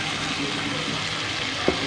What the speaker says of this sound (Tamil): இந்த பக்கம் அந்த தக்காளி வெங்காயம் தேங்காயெல்லாம் அரைச்சிட்டேன் அரைச்சி ஊற்றிக்கலாம்